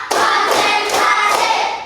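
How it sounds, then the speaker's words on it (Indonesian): Primary school class clapping hands in a counting clap game, four sharp synchronized group claps in a steady rhythm, loud and close. "Tepuk satu. Tepuk dua. Tepuk tiga. Tepuk empat."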